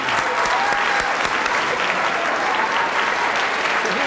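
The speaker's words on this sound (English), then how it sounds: "let's have a big round of applause" An audience breaks into loud, sustained applause, a dense wash of many hands clapping steadily throughout with no break, filling the room at close range.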